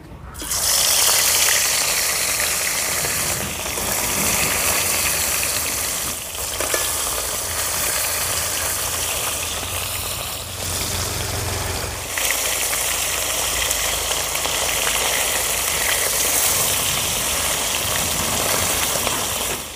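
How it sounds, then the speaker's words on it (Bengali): Japani puti fish frying in hot mustard oil in a wok, a steady dense sizzle that crackles without pause at close range, with brief dips and swells as the fish shift, and no voices. "তেল গরম হয়ে গেছে, এবার কড়াইতে দিয়ে দেব মাছগুলো।"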